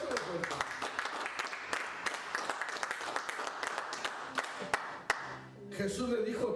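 A church congregation applauds for the Lord, dense clapping running steadily throughout, with a voice calling out briefly near the end.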